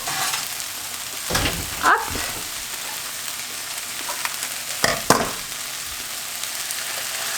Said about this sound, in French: j'ai mis un oignon, une gousse d'ail à faire revenir dans une cuillère à soupe d'huile d'olive